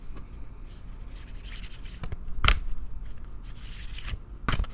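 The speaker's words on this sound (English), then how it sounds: "I'm shuffling a little until Spirit tells me to stop." Tarot and oracle cards being shuffled by hand, repeated soft rubbing and riffling with sharper slaps and snaps in between, close and fairly quiet.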